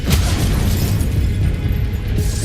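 An Incendio fire spell bursts in the Hogwarts Legacy video game, a loud booming blast with a crackling, rumbling tail that fills the short stretch.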